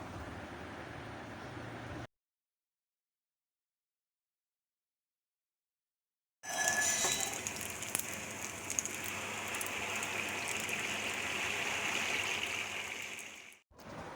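Malpua batter fries in hot oil over a low flame with a steady sizzling crackle and small pops, close by, in two stretches separated by a silent gap.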